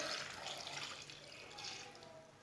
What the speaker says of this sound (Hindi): 1 गिलास पानी डालेंगे,